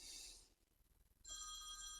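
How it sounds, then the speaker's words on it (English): A phone rings in two bursts of steady electronic ringtone, separated by a short quiet gap, in a workshop where an amplifier's loose hardware is being checked. "my phone rings"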